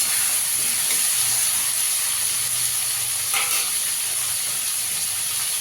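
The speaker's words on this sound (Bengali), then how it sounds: "কাঁকরোলগুলোকে একটু ভালো করে ভেজে নিতে হবে।" Pieces of spiny gourd (kakrol) fry in oil in a pan, giving a steady, close, hissing sizzle that holds evenly throughout with no talking.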